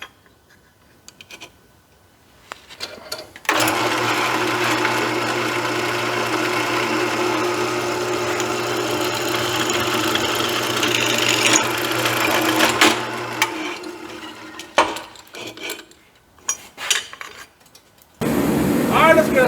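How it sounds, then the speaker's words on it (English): A drill bores holes in metal plates for a 1940 Chevy Coupe fuel tank, a steady loud motor whine that runs about nine seconds, then stops. Short bursts and scrapes follow, and the drilling starts again near the end. "Let's get us some holes drilled in the middle of these plates right here."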